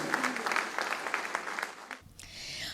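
An audience applauds a singer at a Día del Amor performance, with a couple of seconds of steady, moderately quiet clapping before it cuts off abruptly.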